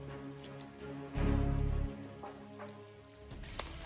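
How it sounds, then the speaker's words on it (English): Rain falling in a central Kalimantan forest in Indonesia, a steady wash of drops with a louder, heavier burst in the middle before it eases back to a soft patter. "as you can see, it's raining"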